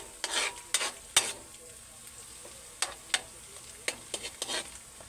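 Ginger sautéing in a pan, a soft sizzle broken by sharp scraping stirs and clinks of a utensil at irregular intervals, close by and without speech.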